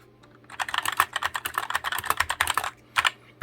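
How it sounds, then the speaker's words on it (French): Fast, clacky typing on a tenkeyless mechanical keyboard fitted with Gateron red switches, a dense run of close, crisp keystrokes with a short pause before a final flurry, no voice over it. "Donc c'est des switch rouges Gateron."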